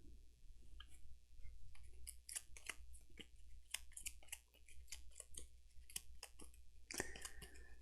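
Cards being shuffled by hand during a Gloomhaven board game session, heard as quiet crisp riffling clicks and snaps spread across the stretch, with a sharper burst near the end.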